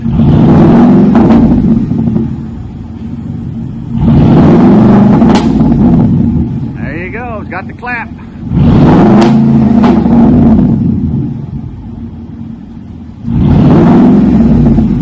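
Loud, close revs from a 2010 Ford F150 V8 with straight pipes and no mufflers surge and fall in three big rises to about 2,000 rpm, deep and throaty, with a short spoken line during a lull.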